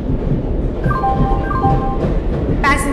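A passenger express train arrives at a station platform in Indian Train Simulator, giving a constant loud rumble with brief tonal squeals and a sharp high screech near the end.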